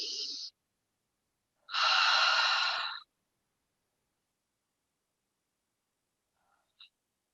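Deep clearing breaths at the end of a yoga practice: a short exhale, a pause, then one long audible breath out, close and alone, followed by silence.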